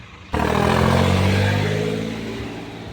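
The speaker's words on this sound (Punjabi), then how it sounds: "ਇਹ ਪੰਜਾਬ ਦੇ ਮੋਡੀਫਾਈ ਟਰੈਕਟਰ" Modified Punjabi tractor engine revving hard at a Sikh religious fair, a sudden loud rising roar after a brief quieter moment, then a sustained throaty drone that slowly fades, with no talking.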